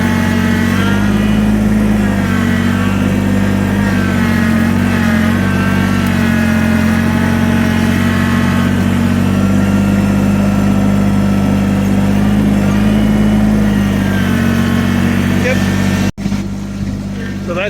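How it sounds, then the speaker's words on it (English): Tractor engine runs loudly and steadily at a fixed speed while moving a load of dirt, a constant close-up drone that cuts off abruptly near the end. "Driving a tractor with a load"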